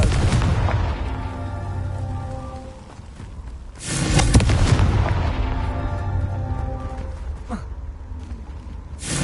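A Confringo blasting spell explodes in a video game as loud booming blasts, with one big burst near the middle and another toward the end, over a rumbling background.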